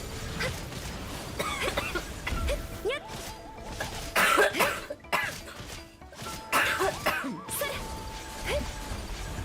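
Several harsh coughs burst out over Genshin Impact game music and effects, loud and close, scattered through the stretch with busy background sound between them.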